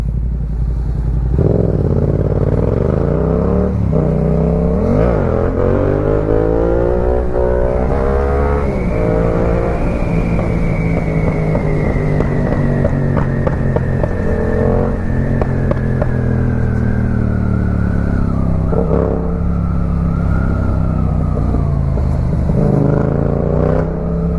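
Motorcycle ridden on a road, loud and close engine droning throughout, rising and falling in pitch as it revs up through gears and eases off, with clattering mechanical noise and no talking.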